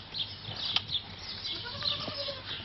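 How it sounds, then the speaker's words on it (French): Two young goat kids, about two months old, bleat in short, thin cries scattered over a few seconds, fairly close, with light background rustle and no talking. "Elle a 2 petits cabris qui ont à peine 2 mois"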